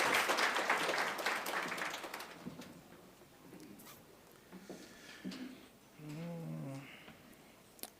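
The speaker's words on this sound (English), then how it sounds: "A big round of applause for Prof. Mkhize" Applause at an African languages association conference opening, loud for the first two seconds, then fading into scattered claps and room shuffling, with a brief voice near the end.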